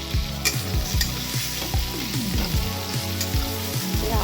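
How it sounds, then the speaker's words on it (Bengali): Nigella seeds sizzle in hot oil in a pan while being stirred, a steady crackling fry broken by repeated scraping and clinking strokes of the utensil, close and alone. "ফোড়নে দেবো কালো জিরে"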